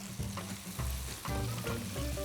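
Carrots frying in about 80 ml of oil in a wok over high heat, a steady close sizzle with bursts of stirring, mixed with low tonal hum and clatter running through the whole clip.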